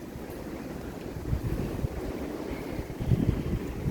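Strong gusty wind from a heavy thunderstorm in southeastern Pennsylvania roars steadily into the microphone, surging in louder rumbling gusts with no voices.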